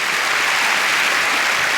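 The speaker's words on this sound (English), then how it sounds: "give him a round of applause" A comedy club audience applauds steadily, a dense, even clatter of many hands clapping at full volume from start to finish with no voices.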